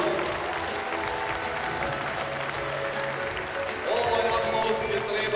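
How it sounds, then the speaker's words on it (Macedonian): Large audience applause at a kindergarten year-end show, dense continuous clapping with crowd noise mixed in, and music rising in partway through. "Ве моламе на најголем аплауз."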